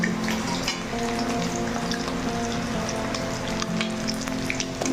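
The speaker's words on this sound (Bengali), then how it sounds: "তেলের মধ্যে পেঁয়াজ দিচ্ছি" Onions frying in oil in a pan give a constant dense sizzle and fine crackle, close and even in level, with no talking.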